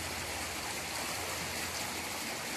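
A small stream of water flows steadily outdoors, a constant close rushing wash with no breaks.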